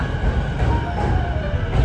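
Continuous low rumble and hiss of a train at a railway station in Yokohama, Japan, filling the whole stretch with steady, fairly loud mechanical noise and no talking.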